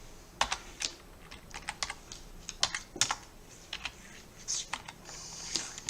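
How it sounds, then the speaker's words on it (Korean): Keys pressed on a computer keyboard for a Ctrl+Shift+A shortcut, about a dozen crisp separate clicks in an uneven rhythm over several seconds, close and fairly quiet, with no talking. "키보드에 있는 Shift를 누른 채로 A를 누르시면 됩니다"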